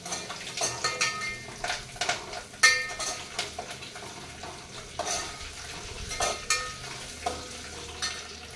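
Curry leaves, green chillies and onions frying in a pan for gongura chicken, with a soft sizzle under irregular stirring scrapes and light utensil clinks, close by and fairly quiet, no talking.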